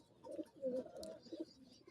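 Soft, low cooing from pigeons close by, a few throaty rolling calls in quiet surroundings.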